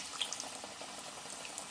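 A coated fish piece for Lahori fried fish frying in oil, a faint, steady bubbling sizzle with light crackles, heard close and alone.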